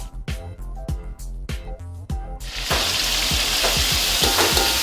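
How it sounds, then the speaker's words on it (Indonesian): Jengkol beans fry in hot oil, starting with a few loud crackles and pops, then a dense, steady sizzle as the beans settle in, close and alone. "Jengkolnya digoreng dulu nih guys, biar empuk."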